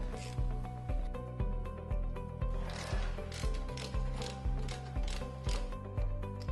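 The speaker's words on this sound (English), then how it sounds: "Grab your medium-sized ratchet and put a size 45 Torx bit onto it. Loosen the small bolts on the caliper" A medium ratchet fitted with a Torx T45 bit loosens small BMW brake caliper bolts, giving a close, regular clicking of the pawl in quick bursts of strokes with short pauses between them.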